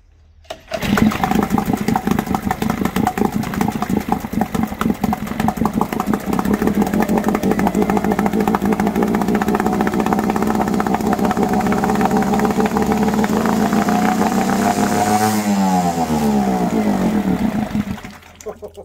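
A 5hp Mariner outboard engine starts and runs steadily at a loud, close, buzzing pitch for most of the clip, with a brief rev change near the end before cutting off; no voices.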